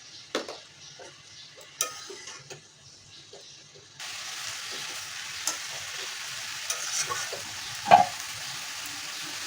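Mixed leafy greens with turmeric and salt are stirred in a pan, with sparse spoon scrapes at first, then a denser continuous sizzle and a sharp clink near the end.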